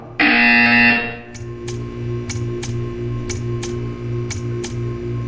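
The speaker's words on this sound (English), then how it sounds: "You will hear a buzzer." A loud, harsh electronic buzzer in the video game Portal 2 blares for about a second, then a steady hum continues with faint rhythmic ticking clicks repeating at regular intervals.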